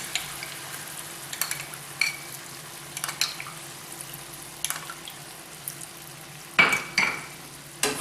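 A spoon scrapes and taps intermittently through a pan of honey chilli egg as cornflour slurry is stirred in, over a steady low sizzle, with a sharper clatter of utensil against pan near the end.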